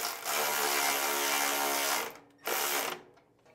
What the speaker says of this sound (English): This takes a 3/8 wrench. We'll run these down close